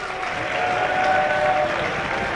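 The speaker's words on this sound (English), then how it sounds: "clap it up for yourselves" A school talent show audience claps steadily for a couple of seconds at the Army and Navy Academy, a dense wash of applause with a few faint cheers mixed in.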